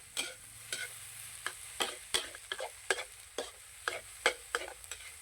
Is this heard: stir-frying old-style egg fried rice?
yes